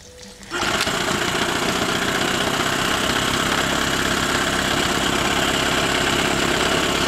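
A 9.9 outboard boat motor starts up and runs steadily at close range, a loud continuous engine drone with a buzzing mechanical whine that holds constant after a brief quiet start.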